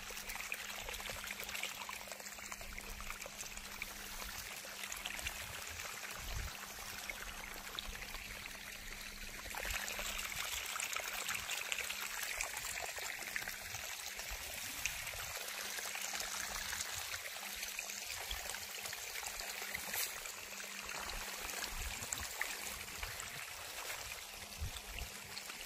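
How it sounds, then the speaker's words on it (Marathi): Tap water running in a steady, continuous stream, a faint trickling pour with a constant low hum beneath, unbroken throughout. "बघा आता आपण पाणी चालू करून दिलं आहे."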